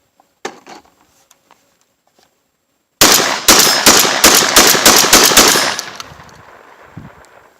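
Mossberg 930 SPX semi-automatic shotgun loaded with Winchester shells firing a rapid string of about nine loud, close blasts in quick succession, followed by a fading echo and faint clinks, preceded by a few soft handling noises.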